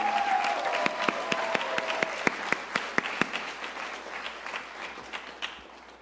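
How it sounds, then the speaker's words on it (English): An audience at a commemorative event applauds, dense clapping that starts strong with a few sharp individual claps standing out, then gradually fades over several seconds, with a brief voice at the start. "So a huge round of applause for Emily, Gabrielle, Kate, Omar, Rabia, Ryan, Sarah, Yanela"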